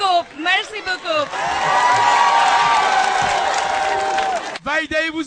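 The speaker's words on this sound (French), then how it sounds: "On l'applaudit très fort." A crowd claps and cheers loudly for the singer, a continuous roar of applause and whoops lasting a few seconds, framed by amplified voices speaking before and after.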